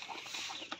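Backyard laying hens clucking at close range in a short, busy burst of overlapping calls, with one sharper cluck near the end and no talk.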